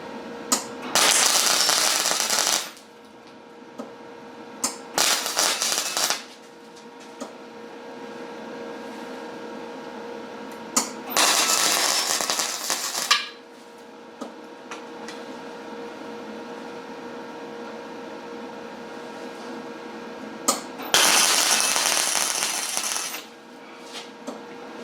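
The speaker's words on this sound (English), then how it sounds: "We'll get the welder going. We'll get this tacked and welded up." Tack welding on a steel track sled framework held square with magnets, with three long bursts of bright crackling hiss, each a couple of seconds, separated by quieter gaps with small clicks and shuffles.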